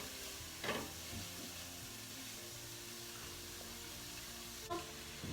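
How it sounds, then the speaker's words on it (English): Mushrooms sizzle and fry in a hot pan with a steady, soft hiss, broken by a couple of brief stirring clinks, quiet and close, with no talking. "we're going to add our mushrooms into the pan"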